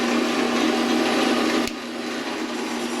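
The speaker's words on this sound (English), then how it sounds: "There's another drill press." A drill press spins with no load in a workshop, a steady broadband motor whir with a strong hum, its level dropping slightly partway through as another machine stays running alone.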